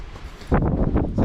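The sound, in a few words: strong wind on a mountain hiking trail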